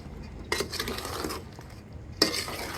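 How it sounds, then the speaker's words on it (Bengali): A utensil stirs and mixes chopped bottle gourd with spices in a cooking pot for a fish-head curry, making two bursts of close, scraping, clattering strokes: one lasting about a second, then a quieter pause, then a second burst starting near the end. "ভালো করে মাখাই নেব মশলার সাথে, মাখা দিই লাউর সাথে।"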